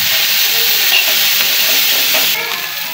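Vegetables seasoned with cumin powder and green chilli fry loudly in a pan, a dense continuous sizzle with faint scraping from stirring that eases slightly near the end, no speech.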